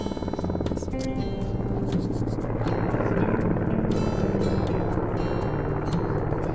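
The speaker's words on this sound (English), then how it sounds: "In the far distance we can see a Russian helicopter flying." A Russian Mi-17 helicopter flies far off above mountain terrain near Namche Bazaar in Nepal at sunrise, its rotor thrum a continuous low rumble under wind and a faint rhythmic chop.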